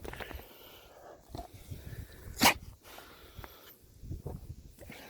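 A dog at a worm farm snuffles and moves about close by, with a brief sharp snort or sneeze in the middle amid quiet outdoor background noise.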